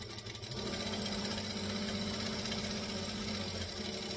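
A sewing machine joins two fabric pieces with a continuous, even mechanical hum and rapid needle rhythm, close by and steady throughout.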